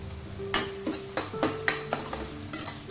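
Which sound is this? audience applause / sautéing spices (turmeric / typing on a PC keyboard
sautéing spices (turmeric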